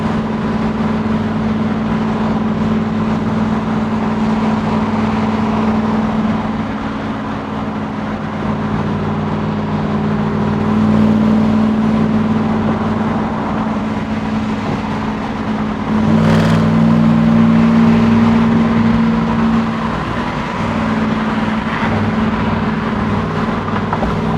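A 1968 Camaro SS restomod with a 650 HP supercharged LT4 and six-speed cruises at speed, giving a steady low engine drone and faint road rumble from inside the cabin, the pitch swelling slightly twice, with no talking.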